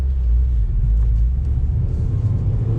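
A 2020 Subaru WRX Series White engine pulls under throttle, heard from inside a quiet cabin as a steady, deep low rumble with a constant drone and no talk.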